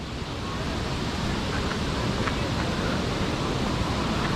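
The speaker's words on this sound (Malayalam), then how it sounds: "നല്ല ശക്തിയായിട്ട് ഒഴുകുന്ന വാട്ടർഫാൾസ് ആണ് സൗണ്ട് നല്ല രീതിയിലുണ്ട്" A strongly flowing waterfall at Kacharam Waterfalls roars in a steady, dense, broadband rush that fills the whole scene, loud and continuous with no breaks.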